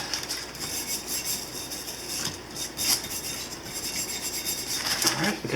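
A brush scrubs paint remover onto a Cold Steel war hammer, making repeated dry, rasping strokes with irregular rhythm and scraping bursts, close up with no talking.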